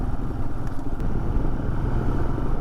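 A motorcycle rides a mountain road on a winter Sikkim trip from Zuluk to Siliguri, its engine giving a steady, dense rumble with wind noise, close and continuous with no talk.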